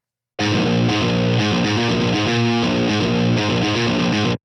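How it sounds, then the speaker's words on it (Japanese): A high-gain, heavily distorted electric guitar plays through a Marshall Greenback 25 cabinet in a metalcore or djent style: loud, dense chugging riffs with rhythmic palm-muted stabs, starting abruptly and ending cleanly after about four seconds. "ちょっとこもっているのでキャビネットをマーシャルのグリーンバック25に変更しますよ。"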